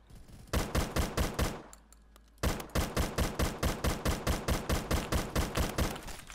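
Rapid bursts of automatic gunfire from a TCR rifle in a shooter video game, loud and close, with a short pause partway before the fire resumes at a steady rhythm, no talking.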